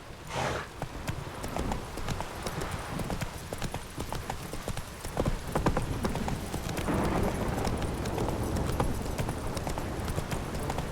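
Steady clip-clop of horse hooves at a trot in The Witcher 3, continuous and close, over a dense wash of ambient game noise with a brief whinny early on.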